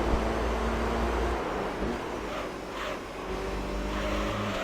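Racing car engine in Gran Turismo 3: A-Spec, holding a steady loud drone through a corner with slight dips as it brakes and a low hum underneath, no talk.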